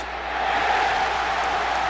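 A stadium crowd at a 2007 college football game between Auburn and Georgia roars in a steady, continuous wash of cheering that holds loud and even throughout, with no individual voices standing out.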